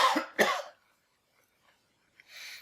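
Two sharp coughs come close together near the start, followed by quiet and a soft breathy exhale at the end.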